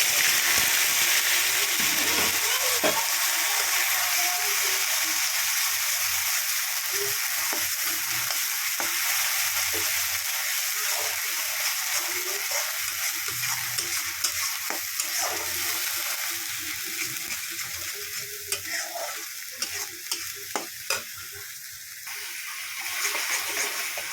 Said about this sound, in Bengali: তেলের মধ্যে একটা শুকনো লঙ্কা ফোড়ন দিয়ে দিলাম মশলাগুলো মিক্স করেছিলাম এই দিয়ে দিলাম তেলের